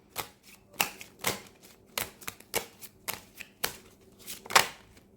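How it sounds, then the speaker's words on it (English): A deck of handmade cards being shuffled by hand, a series of crisp riffling and slapping bursts at an uneven rhythm, close and fairly quiet, with no talking. "I want to kind of shuffle it for you and see what comes out."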